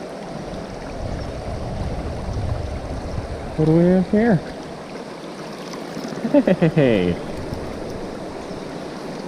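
Water of the Ontonagon River flows with a steady, broad rush throughout, while a voice briefly shouts and others speak over it partway through.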